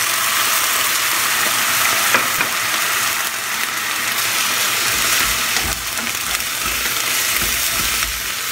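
Carrot and chicken frying in a pan, a steady bright sizzle with occasional scraping and stirring clatter, close and continuous with no talk.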